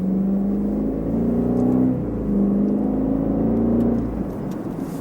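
A 2013 BMW 750i xDrive with a 4.4 liter twin-turbo V8 accelerates in sport mode, heard from inside as a smooth rising engine note climbing through two gear pulls, loud and steady.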